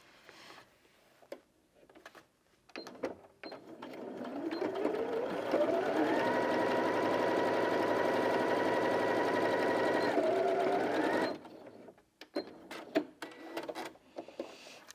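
A Janome Sewist 780DC sewing machine stitches a straight seam through thick denim with a loud, steady mechanical whir that rises in pitch and holds for several seconds. Scattered handling clicks and taps come before and after.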